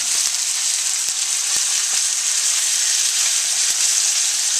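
Carrots frying in a hot pan for a ramen stir fry, a steady, loud sizzle with a few faint clicks of stirring, no talking.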